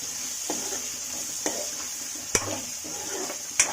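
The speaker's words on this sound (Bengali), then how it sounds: "এটা একটু নাড়াচাড়া করে নিই।" Onion and garlic fry in a pan, with a steady high sizzle throughout and a few sharp scrapes and clinks of a spoon stirring at irregular intervals, with no talk.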